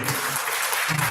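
Audience at an AGM at St Henry's College Kitovu, Masaka, clapping steadily for about a second, a dense continuous patter of many hands with a few voices mixed underneath.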